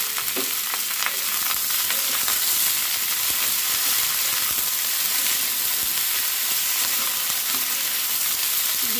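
Cauliflower fries in a pan with a dense, steady sizzle and crackle close by, broken by occasional stirring scrapes, continuing evenly throughout with no talking.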